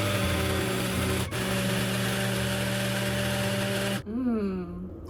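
A blender runs steadily, mixing a cottage cheese meal with a loud, even motor drone. Near the end it stops abruptly and a brief sliding whir follows.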